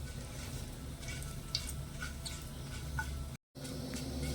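Cumin, urad dal, toor dal and a dry red chili fry in a pan with a soft, continuous crackle and occasional light stirring scrapes, close and fairly quiet, no voices.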